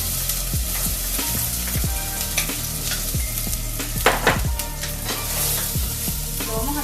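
Chopped half onion and minced garlic cloves sautéing in a pan, a loud, close, continuous sizzle with scraping and stirring clatter and a couple of sharper knocks, no voices.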